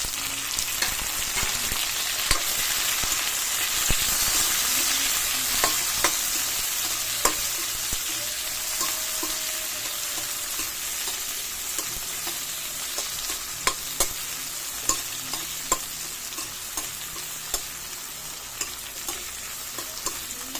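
Chopped tomato sautéed in a pan for ginataang tahong with mixed vegetables gives a steady sizzle and frying hiss, with a scrape of stirring every second or so. It is close, continuous and fairly loud, with no talking.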